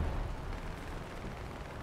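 Sd.Kfz.140/1 reconnaissance tank gun firing in War Thunder, a dull low boom that opens the moment and then fades into a rumbling, broadband wash of noise.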